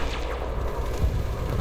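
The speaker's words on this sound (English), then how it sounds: "then I tend to fire the frag cannons" Frag cannons firing from a ship in the space game Elite Dangerous during bounty hunting, heavy booming blasts over a constant engine rumble with no talk.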